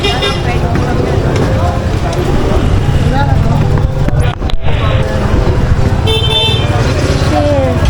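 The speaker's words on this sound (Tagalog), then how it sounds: "Ayan, madami na namang ano, traffic. Madaming traffic." Heavy street traffic in the Carmen, Planas and Divisoria market area: a continuous engine rumble and roadway noise with repeated car horn toots cutting through, and people talking nearby.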